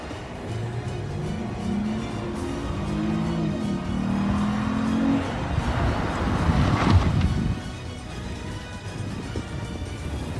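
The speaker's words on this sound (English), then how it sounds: "you heard the brakes squeak?" Lexus IS 250 with upgraded IS/GS 350 calipers and rotors pulling to a stop in a braking test, rolling road and wind noise swelling, then a rising squeal of the brakes near the end as the car halts.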